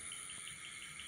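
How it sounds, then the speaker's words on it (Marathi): Steady, shrill cricket chirping fills an evening countryside scene, a continuous high trill with faint rhythmic pulses holding at a constant level throughout, with no voices. "किरकिरचा असा आवाज येतो"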